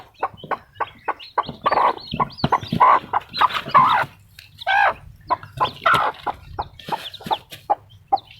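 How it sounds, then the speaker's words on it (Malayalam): Close, loud clucking comes from a mother hen with newly hatched chicks as she is lifted. Rapid agitated calls run in dense, irregular bursts, and there are no voices. "നമുക്ക് തള്ളക്കോഴി മെല്ലെ എടുത്തു നോക്കാം"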